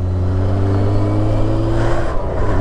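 A motorbike engine revs and pulls hard on a mountain road near the Col de Portillo on the France–Spain border, a loud, close, sustained roar with rising tone and no talk.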